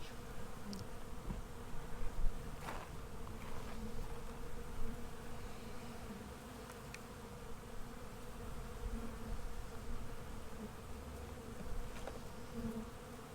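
Honey bees flying around an open hive during an inspection on a sunny day after a long winter, a steady close buzzing drone of many bees throughout, faint and continuous, with no talking.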